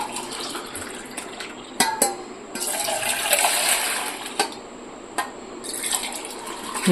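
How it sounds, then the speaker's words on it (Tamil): Rose milk poured back and forth between vessels to mix it, tea-shop style: a gushing liquid stream rises and falls between several sharp clinks of the containers, close up, with no speech. "டீ கடையில் வேலை செஞ்சீங்கன்னா நல்லா ஆத்துறீங்க"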